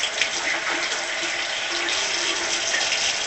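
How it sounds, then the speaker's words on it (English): Water runs steadily from a bathroom sink tap, a continuous close hiss and splash with no pauses and no voices. "you turn on the water to the sink"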